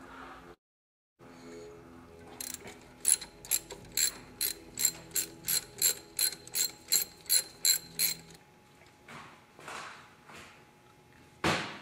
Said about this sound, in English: we'll want to remove the 2 8 millimeter bolts holding the AFC and the fuel